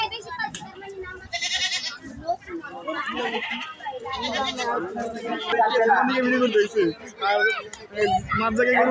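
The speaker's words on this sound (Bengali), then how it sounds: "পলিটেকনিক খেলার মাঠে এক বিশাল গরু ছাগলের হাট" Goats bleat repeatedly amid a busy crowd, with people chattering and calling out throughout at a noisy Eid cattle and goat market on a polytechnic sports field.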